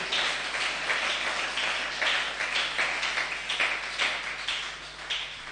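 A church congregation claps at a Sunday service, sustained rhythmic applause with steady pulsing beats filling the room for several seconds, fairly close and uninterrupted.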